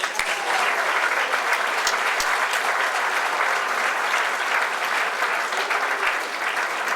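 Audience at an outdoor civil rights heritage walk dedication ceremony applauding steadily, a dense sustained clapping from a sizable crowd that holds even throughout, with a few faint voices mixed in.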